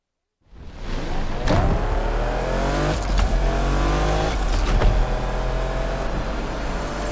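A car engine in the racing game Need for Speed Unbound roars to life and accelerates hard, revving up through several gear changes in a loud, continuous, close-up drone with no talking.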